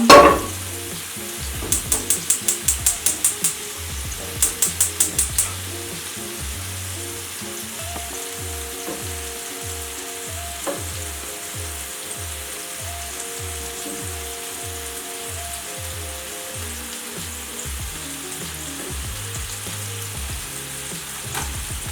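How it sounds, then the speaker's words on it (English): Onions frying in a pan while burgers are made at home: a steady, moderate sizzle runs throughout with soft rhythmic ticks, a brief crackling flurry near the start, and no talking. "So meanwhile, we want to fry our onions just a bit so that they don't be too bitter."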